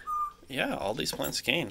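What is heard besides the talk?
pet birds chirping in the background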